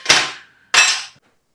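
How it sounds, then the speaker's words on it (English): Sheet metal bent on a pan brake, two loud close metallic clanks about half a second apart, each ringing briefly before silence. "I get to use the pan brake."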